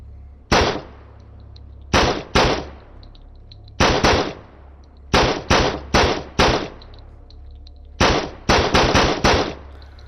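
Sharp gunshots in the PS4 VR game Survive, fired as loud close single and double shots and quick bursts in an irregular rhythm, separated by short quiet gaps.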